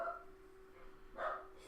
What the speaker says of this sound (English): Oh, sorry about the dog.